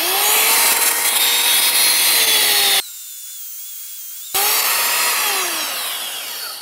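A cordless belt sander grinds loudly against deck wood with a harsh, steady abrasive roar, cuts out abruptly for about a second and a half, then starts again and runs on.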